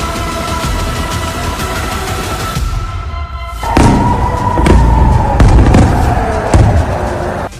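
Ballistic missiles over Israel explode in the sky, heard as heavy booms and thuds with a roaring rumble that swells partway through and stays loud, with sharp cracks breaking through the din.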